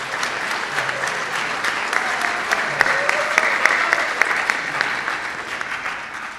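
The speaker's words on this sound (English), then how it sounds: "Could we get one more round of applause for everyone here" Steady applause fills a school auditorium at an NHS induction ceremony, a dense, even patter of many hands clapping throughout.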